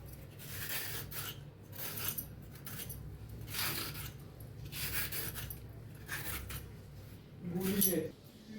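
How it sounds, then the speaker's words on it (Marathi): Fresh ridge gourd is grated by hand in a home kitchen, giving repeated soft rasping strokes in a steady rhythm, fairly faint and close. "असं सगळं किसून घेते।"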